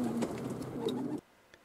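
Racing pigeons cooing just outside their loft, a few soft, low throaty coos close by in quiet surroundings, then stopping abruptly into near silence.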